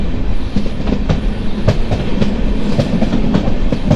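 Radhikapur Express picks up speed on its way to Radhikapur station in North Dinajpur, wheels clattering in a quick, regular clickety-clack over the rail joints, loud and steady from inside the carriage.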